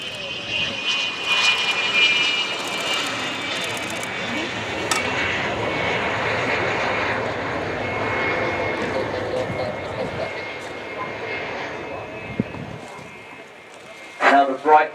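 Frecce Tricolori display jets roar past at an air show, a loud sustained engine rush that swells and fades over several seconds with a whining tone, while a commentator's voice talks over it.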